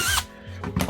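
Power drill whirring in short bursts during interior trim work, two close high-pitched spins separated by a brief lull.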